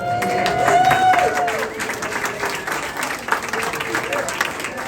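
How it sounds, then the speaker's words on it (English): An audience at a presentation in the Hollywood Museum bursts into applause, a dense, fairly loud clapping that swells and then eases slightly, with a few voices and a faint whistle mixed in. "So now we can applaud for all of these people."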